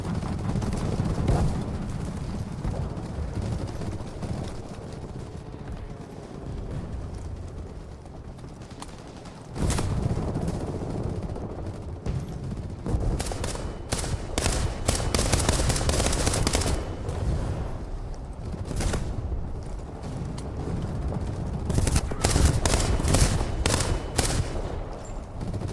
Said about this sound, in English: Yeah, he's shooting at me now.